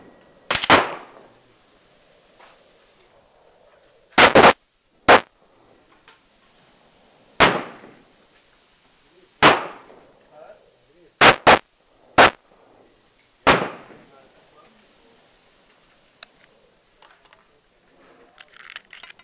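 Glock 27 pistol shots fired on a range: about eleven sharp, loud cracks spaced irregularly, some in quick pairs, each ringing out briefly over near silence.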